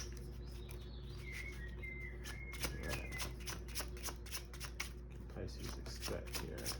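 Tarot cards are shuffled close by in a rapid riffling flutter of many quick card slaps, with light chirping tones in the background.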